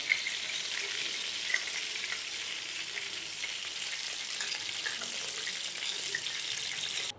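Handi kebabs frying over a medium flame in a pan, a steady, fairly quiet bright sizzle with a few faint pops.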